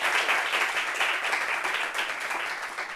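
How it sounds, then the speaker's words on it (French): An audience applauds panel guests at a French-language gathering on blind people, with steady dense clapping that holds at an even level for the whole stretch and has no voices over it. "est-ce qu'on peut applaudir pour Armand? Et enfin pour Baba Etrani,"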